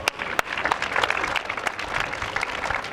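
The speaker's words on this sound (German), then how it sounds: "bitte mal einen großen Applaus für unsere Eltwiler Feuerwehren" Crowd at a village fire brigade festival clapping for the local fire brigades, a brief, fairly loud burst of dense applause with a few sharper individual claps standing out.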